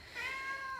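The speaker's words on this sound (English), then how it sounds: "You can hear my cat in the background." A cat gives one short, faint meow from somewhere in the background, rising briefly and then fading.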